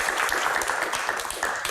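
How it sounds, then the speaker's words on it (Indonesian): A student audience in an Indonesian TV studio applauds, a continuous, fairly loud patter of many hands clapping at once with no one speaking over it. "Tepuk tangan buat teman-teman"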